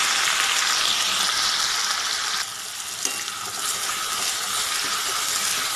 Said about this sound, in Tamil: நல்ல வெங்காயம் பொன்னிறமா வதக்கிக்கோங்க.